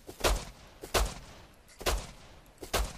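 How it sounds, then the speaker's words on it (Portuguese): Gunshots in the video game Rust Legacy, four sharp loud reports spaced roughly evenly apart, each with a short decaying tail, with no talk over them. "Acertei três tiros."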